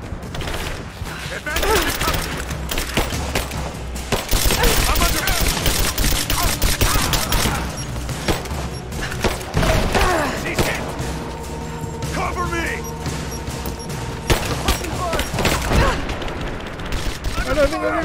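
Gunfire in the video game Rise of the Tomb Raider, with repeated loud shots and bursts throughout a busy combat scene, mixed with impacts and mechanical clatter while a person talks over it.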